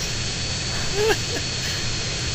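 A jet aircraft in GTA San Andreas, trailing black smoke, gives a faint, steady engine roar with a thin high whine that runs unbroken throughout.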